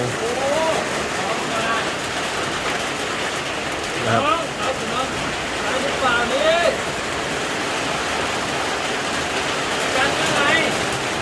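Steady rain falls at night on an outdoor campsite, a dense continuous hiss close by, while someone talks intermittently over it.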